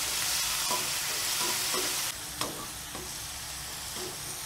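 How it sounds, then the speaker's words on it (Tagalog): Tomatoes sizzle in a hot pan with garlic and onion, a dense steady frying hiss with soft stirring scrapes and a small clack midway, close and continuous with no voices. "Lagyan na rin na po natin yung ating kamatis."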